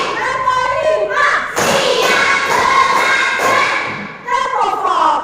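A classroom of children claps hands together in a counted clap, sharp bursts of many hands landing at a steady beat, loud and close, with children's voices chanting around them.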